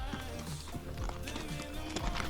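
Horses' hooves clop steadily along a mountain trail ride, an irregular walking rhythm of muffled knocks set against a constant wash of outdoor noise and faint background voices.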